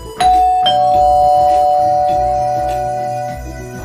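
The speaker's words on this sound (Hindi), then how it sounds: "राकेश घर की डोरबेल बजाते हुए" A doorbell chimes, two bright tones ringing out and then sustaining as they slowly fade, with no voices.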